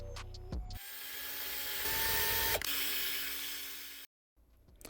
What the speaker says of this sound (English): I remember, I have a drill